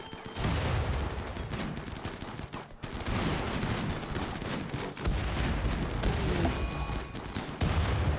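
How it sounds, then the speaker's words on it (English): Raiders in RimWorld bombard a colony with grenades: a continuous loud barrage of sharp cracks and blasts over several seconds, with dense overlapping impacts and only brief lulls, no voices. "we're getting absolutely bombarded, as you can see"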